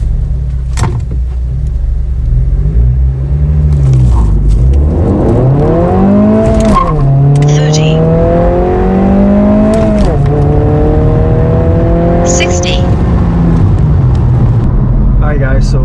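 A 2022 Honda Civic Si accelerates hard during a 0 to 60 run, its engine note climbing loudly through the gears with clear shift breaks, heard from inside the cabin with someone speaking over it.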